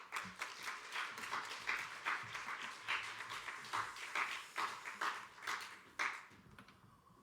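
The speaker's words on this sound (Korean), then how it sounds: "목사님 나오실 때 큰 박수로 환영하도록 하겠습니다." A church congregation breaks into sustained applause to welcome a pastor, dense clapping from many hands filling the room steadily for several seconds before thinning out at the end.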